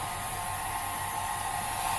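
A hair dryer blows steadily and loudly over a wet painting during a live art workshop, its constant roar running unbroken with no voices.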